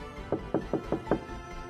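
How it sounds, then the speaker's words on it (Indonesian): Five evenly spaced knocks on a door in a drama film, close and moderately soft against a quiet background. "terdengar bunyi ketukan pintu kembali"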